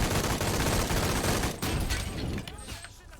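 Dense, rapid assault rifle fire from the video game Shadow of the Tomb Raider hammers loudly and continuously for about a second and a half, then thins into scattered shots and ringing tails.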